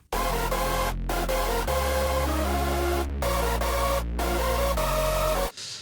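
A synth lead brightened by a Pultec-style EQ plugin plays loud, bright sustained chords over a heavy bass, with short rhythmic gaps in a hardstyle pattern.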